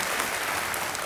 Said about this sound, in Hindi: एक बार फिर तालियों के साथ स्वागत करते हैं